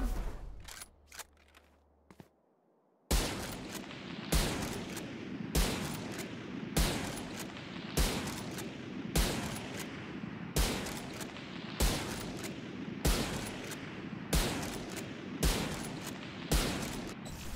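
Marshal sniper rifle shots in the video game Valorant during shooting practice atop a dome, a steady series of about a dozen loud, evenly spaced single blasts, each with a brief ringing tail.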